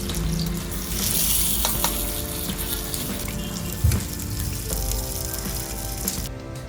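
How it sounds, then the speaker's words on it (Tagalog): A burger steak patty frying in hot oil, with a steady bubbling sizzle running throughout, a faint hum underneath, and one brief clunk partway through. "make sure na mainit ang mantika nyo para hindi siya dumikit habang piniprito ang patty"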